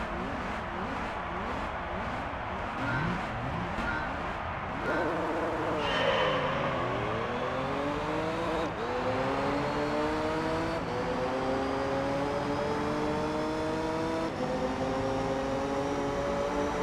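Race cars in the video game Gran Turismo 3 racing in Tokyo, engines whining and revving loudly with rising and falling pitch as they accelerate and shift gears, continuous and close.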